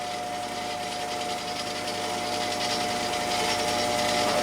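6.0 Powerstroke crankshaft spinning on a balancing machine at 600 RPM, a steady mechanical whir with a fixed tonal hum, gradually growing louder as it speeds up.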